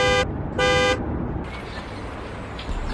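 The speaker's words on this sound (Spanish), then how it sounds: "¡Tócale bocina y vámonos!" A car horn honks two short, loud blasts close by, followed by the low rumble of the idling vehicle.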